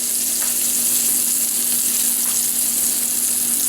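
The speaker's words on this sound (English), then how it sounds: "The steak goes right in the pan." A steak sears in extra virgin olive oil in a heavy steel pan, producing a loud, dense, unbroken hiss of sizzling oil close by with no talking over it.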